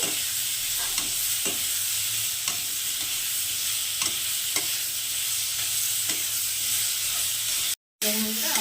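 Hog plum pickle frying with salt in a pan: a loud, continuous close sizzle and hiss with soft periodic spatula strokes, cut by a short break near the end.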